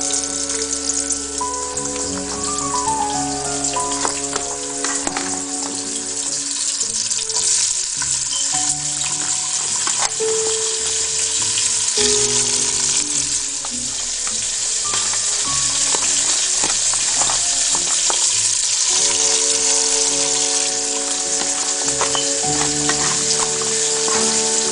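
Onions sizzling in a hot pan over high heat while cooking estofado, a loud continuous frying hiss with crackles and occasional stirring clatter, close up and steady throughout.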